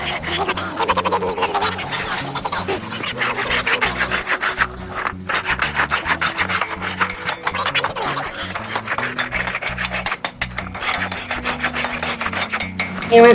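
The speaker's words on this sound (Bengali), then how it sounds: "কড়াই তৈরি হয়ে যাওয়ার পরে যে সমস্ত এক্সট্রা অ্যালমোনিয়ামের অংশ লেগে থাকে সেইগুলোকে ভালো করে পরিষ্কার করতে হয়" Freshly cast aluminium kadai being scraped and rasped to clean off excess metal in a factory, a continuous loud gritty rubbing and filing with steady rhythmic strokes and clattering underneath.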